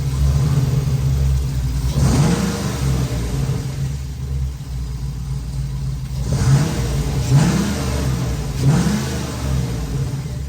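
A car engine runs steadily at a mid-pitched idle while fuel pressure is being tested, with three or four gentle revs rising and falling over the drone.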